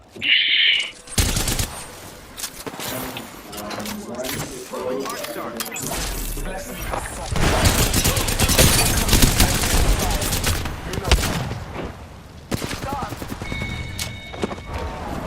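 Video game gunfire in a battle royale match, rapid bursts of automatic fire and shots cracking loudly across the middle of the clip with a short tone at the start, under game sounds and some talk.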